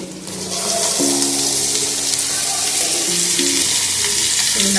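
Capsicum goes into hot oil for a quick masala curry, setting off a loud, dense, continuous sizzle close by that holds steady throughout.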